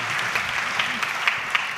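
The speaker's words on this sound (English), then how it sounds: "Thank you. Thank you. Applause." An audience applauds at a panel event on the Baltic stock exchange, a steady dense patter of many hands clapping close by, with a few sharper claps standing out.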